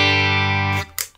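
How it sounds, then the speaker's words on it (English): Electric guitar through a Behringer UC200 Ultra Chorus pedal, clean tone on the bridge pickup: a single sustained strummed chord rings steadily for most of a second, then is cut off, with a faint click of handling afterward. "Here's my clean sound on the bridge pickup."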